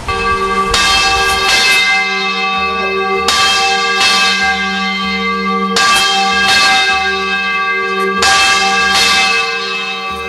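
A large church bell weighing 685 kg and tuned to G rings out loud and close, its repeated strikes swelling roughly every two and a half seconds over a sustained, shimmering ring with no voices.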